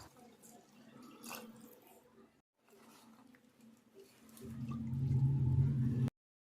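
Water pours steadily into a pressure cooker with mutton, a loud gushing splash building near the end after a stretch of quieter kitchen clatter and drips.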